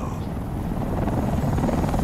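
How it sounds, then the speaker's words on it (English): A tank helicopter in the video game Batman: Arkham Knight, a loud continuous whirring rotor drone with rapid chopping pulses, close and steady for the whole moment. "That's a tank helicopter."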